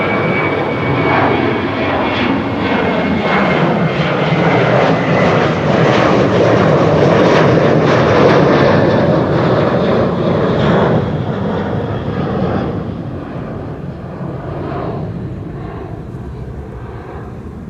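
A loud aircraft engine roar at Amsterdam Schiphol Airport swells to a peak and then slowly fades as the plane moves past, with no voices.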